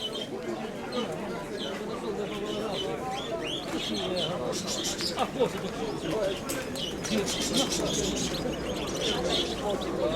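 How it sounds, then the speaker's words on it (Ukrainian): Pigeons, some of them red, coo and chirp at a fair in the city of Dnipro, a low repeated cooing mixed with sharper chirps under background crowd voices. "Голуби, місто Дніпро."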